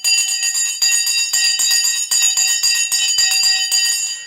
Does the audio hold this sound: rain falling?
no